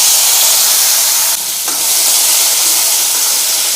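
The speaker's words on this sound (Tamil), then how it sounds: "தக்காளி வந்து நல்லா வெந்து வரட்டுங்க. அது வெந்து வர அளவுக்கு நம்ம வதக்கி கொடுத்துக்கலாங்க." Four cut tomatoes sauté in a frying pan, giving off a loud, close, continuous sizzling hiss with a brief dip as they are stirred.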